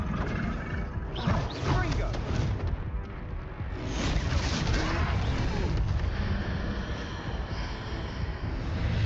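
A huge troll roars and grunts in a Hogwarts Legacy battle, a loud, rough, sustained bellow running through the whole stretch amid crashing combat noise.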